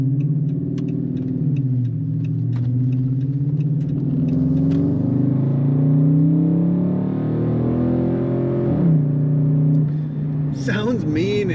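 An orange and black 2013 Dodge Charger SRT8 Super Bee accelerates through traffic, its deep engine rumble climbing steadily and loud for several seconds before dropping at a gear change near the end.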